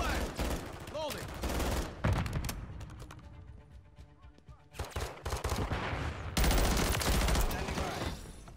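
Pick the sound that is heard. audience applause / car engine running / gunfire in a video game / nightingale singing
gunfire in a video game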